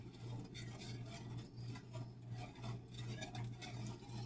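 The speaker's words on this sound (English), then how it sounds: "But you got to keep stirring it." Slaw dressing of sugar, vinegar and oil heats in a pot while a utensil keeps stirring it, giving a steady soft scraping and swishing over a low constant hum, with no talk.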